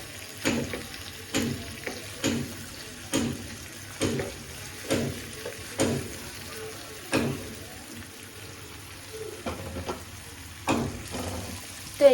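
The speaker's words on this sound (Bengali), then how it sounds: "তো এটা ভাজি ভালো করে" Onions frying in a wok, with a steady low sizzle under regular scraping stirs roughly every second, close by, the rhythm loosening toward the end.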